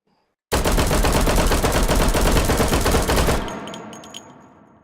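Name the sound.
dual-wielded pistols firing in video game H3VR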